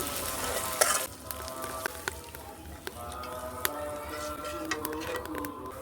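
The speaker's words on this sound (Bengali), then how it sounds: "আদা বাটাটা একটু ভেজে তারপরে দিয়ে দিব পানি" Ginger paste frying in oil with cardamom, cinnamon and onion in a village kitchen makes a soft, continuous sizzle with sharp clicks and taps of a stirring spoon against the pan.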